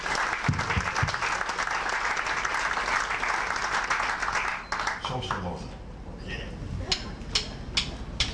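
A concert audience gives loud, dense applause for a singer after a gospel performance; the clapping breaks off abruptly partway through and thins to scattered claps while a voice speaks.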